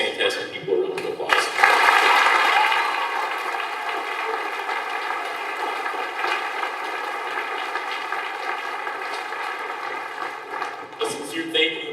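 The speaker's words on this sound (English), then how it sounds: "please give all these fantastic people a round of applause" A graduation audience applauding in a large hall, sustained crowd clapping that swells early, holds steady, then fades out near the end.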